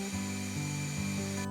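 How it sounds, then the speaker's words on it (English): A Festool plunge router cuts a 1-inch hole into a wooden board, giving a steady, fairly quiet high whine with a low hum beneath it and no voices. "I plunged down and routed out a 1-inch hole."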